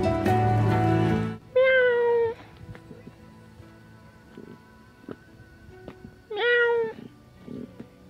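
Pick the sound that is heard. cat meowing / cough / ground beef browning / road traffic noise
cat meowing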